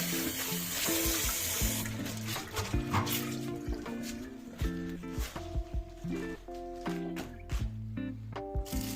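Tap water running and splashing onto parchment paper over a baking tray, close and moderately quiet, with irregular spattering and wet crinkling bursts, no talk.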